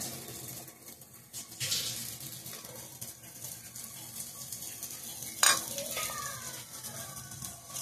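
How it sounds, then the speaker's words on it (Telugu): Dosa batter sizzling on a hot pan, a quiet continuous frying hiss with occasional scraping and clinking of utensils, a sharp metallic tap near the end, and faint background voices. "సాయంత్రాల కోసం అయితే దోశలు వేసేస్తున్నాను."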